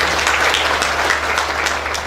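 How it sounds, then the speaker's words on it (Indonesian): A church congregation claps together in dense, steady applause that fills the whole stretch at a loud, even level. "Tepuk tangan bagi Tuhan."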